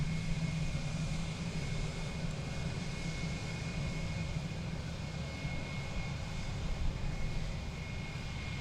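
Steady, broad engine roar from an airliner bound for Kansas City at DFW Airport, holding an even level throughout with a faint tonal whine riding on top and no one speaking.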